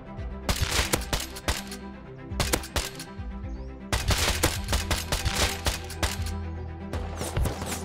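Rapid bursts of gunfire during a base raid in the video game Rust, loud and dense, with volleys of shots in clusters separated by brief lulls, no talk.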